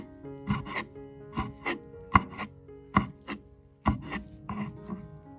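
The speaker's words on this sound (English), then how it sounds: "Place the chili on a cutting board and use a sharp knife to slice it into thin slices" A sharp knife slicing a fresh chili on a cutting board, a series of crisp close cuts, some single and some doubled, spaced irregularly with a soft rubbing between strokes and no talking.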